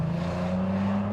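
An Audi TT 3.2 engine hums steadily at mid revs, a close, continuous drone with a stable low tone and no clear gear-change break within this short moment.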